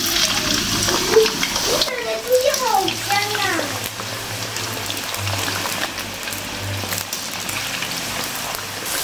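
Potatoes frying in a pan at home, a steady close sizzle running throughout with some stirring noises, while a voice speaks briefly near the start.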